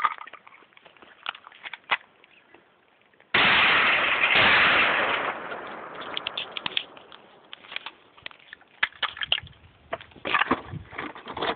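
Savage 20 gauge double-barrel shotgun fired at a television outdoors: one loud blast with a long rolling echo, followed by scattered clattering and smaller impacts.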